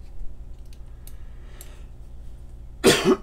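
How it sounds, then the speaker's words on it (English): A single sharp cough, close and loud, bursts out near the end after a quiet stretch broken only by faint clicks. "Excuse me, sorry for coughing,"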